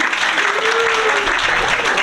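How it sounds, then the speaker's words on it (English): At a school board meeting, the audience gives a round of applause for the third-place team, continuous crowd clapping filling the room, with a voice briefly audible over it. "How about a round of applause for the third place team?"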